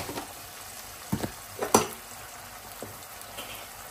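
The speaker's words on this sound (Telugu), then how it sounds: "బాగా నూనెలో మగ్గాలి" Drumstick masala paste with chili powder and salt frying in oil, a faint low sizzle broken by a few short scraping and clattering stirs near the middle, close and quiet.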